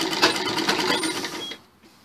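A sewing machine stitching a blouse, running in a fast, even rattle for about a second and a half close by, then stopping abruptly.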